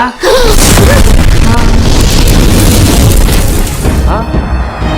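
A loud, sustained bomb explosion effect booms through a Kannada short film scene, rumbling for several seconds before easing off, with voices heard alongside it.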